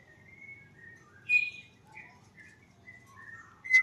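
Green leafbird (cucak ijo) kept as a cage bird, giving a series of varied, high chirps and whistled notes at moderate distance, with a louder burst near the middle and a sharp call at the end over a low background rumble.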